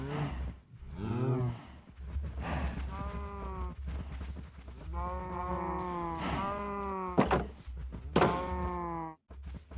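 Cows mooing in a pen in Minecraft, several drawn-out lowing calls in a row, fairly close and loud over a steady low background hum, with no talking.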